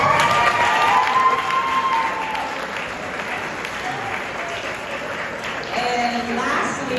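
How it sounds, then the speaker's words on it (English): Sustained applause from a crowd honoring parents at a youth sports banquet, dense clapping with some cheering and whistles, loud and steady throughout, with background voices mixed in. "So we can get a round of applause for parents."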